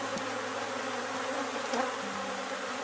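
A honeybee swarm hums on a hive frame, a dense, continuous close-up buzz with individual bees passing near, and no voices.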